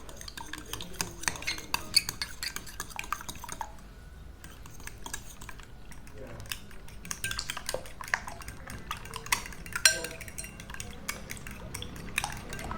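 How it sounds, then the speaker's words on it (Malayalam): A fork beats an egg mixture with pepper powder in a bowl for fried chicken batter, giving quiet, rapid, irregular clinking and tapping against the dish, close and continuous with a brief pause partway. "ഈ ഫോർക്ക് ഇട്ട് കൊണ്ട് തന്നെ നമുക്കൊന്ന് ബീറ്റ് ചെയ്യാം"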